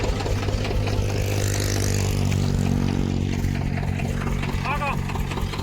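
A Swaraj 724 tractor engine runs steadily outdoors with a loud, deep, throbbing rumble that holds constant throughout, while voices are heard in the background.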